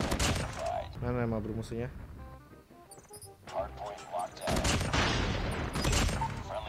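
Rapid bursts of gunfire from the mobile shooter Call of Duty Mobile, with a Type-25 rifle in use, crackle through the scene while someone talks excitedly over the shots.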